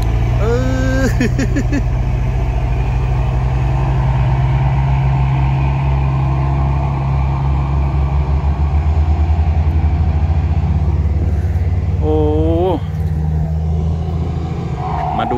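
Cars overtaking one another on a hill road at Noen Pha Sam Bon, a constant loud engine drone and rumble close by for the whole stretch, with brief tonal engine sweeps and a voice speaking over it.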